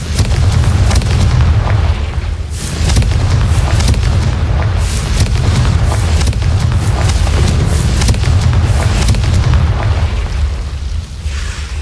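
Confringo blasting spells explode over and over in Hogwarts Legacy, a loud, continuous barrage of booming bursts with crackling debris that stays heavy and dense from start to finish.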